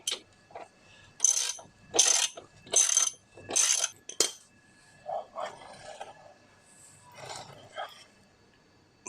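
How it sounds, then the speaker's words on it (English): Axle nut being tightened on a Kawasaki ZZR250 motorcycle with a ratchet, four loud, even bursts of ratcheting clicks followed by softer metallic handling and brief clinks, close to the mic. "Now the wheel's adjusted back, we can tighten up the axle."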